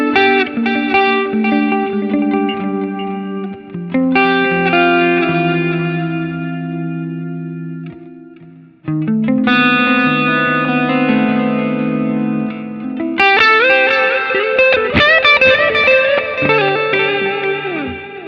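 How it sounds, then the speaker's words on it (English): Electric guitar played through the Ampeg Opto Comp compressor model on a Line 6 Helix, clean sustained chords and picked notes ringing with smooth, even compression, loud and close with brief pauses between phrases. "Keep in mind the compressor I have first in the chain is now turned off, so all you're hearing is this last one here"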